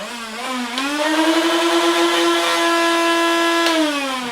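A Nerf Rival blaster on full auto revs its motor up to a steady high-pitched whine, holds for a few seconds, then winds down, sounding much like a power tool.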